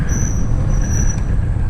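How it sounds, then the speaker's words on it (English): Rear brakes on an old Honda car squeal in a thin sustained high tone over steady low road and engine rumble from inside the moving vehicle. "ooh, a little squeak out of the rear brakes there"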